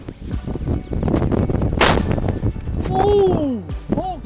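A single loud shotgun blast fired at a pigeon outdoors in high winds, a sharp crack standing out over steady wind noise, with voices talking around it.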